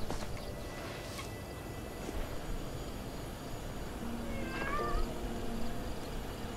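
A cat meows in the video game Hello Neighbor 2, a short wavering meow standing out briefly over a steady noisy game background with faint low rumble.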